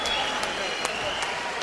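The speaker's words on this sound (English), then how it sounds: "Many of the fans on their feet applauding." Fans applauding at a professional boxing match after the final bell while the judges' scores are awaited, a steady subdued wash of clapping from a large arena crowd, with a commentator's voice audible over it.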